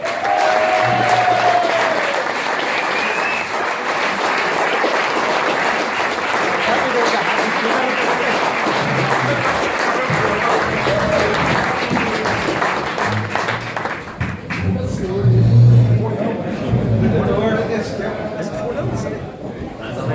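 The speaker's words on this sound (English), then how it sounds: "Massive round of applause for George McMullan." Loud, sustained applause and some cheering from an audience of about a hundred at a Q&A event welcoming George McMullan, continuing throughout, with a voice speaking over it in the latter part.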